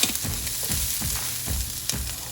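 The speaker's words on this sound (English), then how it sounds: "heat a frying pan and pour cooking oil. Sauté garlic, ginger," Garlic, ginger and onion sizzle in hot cooking oil in a frying pan, a steady close crackle broken by regular stirring scrapes, no voices.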